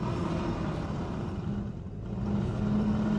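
A 2025 Volkswagen Taos in snow mode strains during a slip test, its engine droning steadily with a low, sustained hum that dips briefly and then rises again toward the end as power builds, heard alone without talk.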